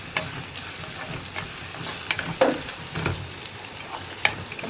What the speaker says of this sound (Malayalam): സവോള ഒന്ന് കുക്കായി വരട്ടെ.